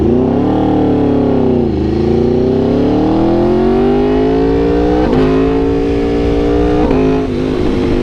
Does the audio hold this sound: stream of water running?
no